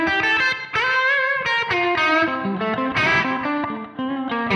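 Electric guitar through a Neural DSP Soldano SLO-100 amp model, clean channel on the crunch setting with a short slapback delay and reverb, playing a continuous melodic lick with mildly driven sustained notes, loud and alone.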